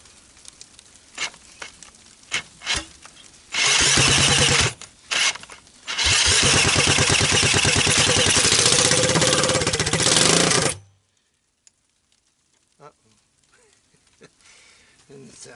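A 1986 Honda ATC200X three-wheeler fitted with a 200S motor, running with a seizing engine, bursts loudly into a rough roar twice, a short blip then a longer run of several seconds, before cutting dead to near silence with faint sounds after.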